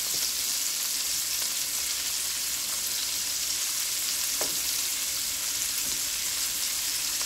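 Shrimp fry in spicy garlic butter in a large pan, producing a steady, close, continuous sizzle that stays even throughout with no talking.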